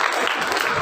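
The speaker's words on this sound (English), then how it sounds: "Please give a round of applause for Teacher Nancy Guptaswamy." Applause from a school audience at a festival, a steady dense patter of clapping filling the whole short moment without a break.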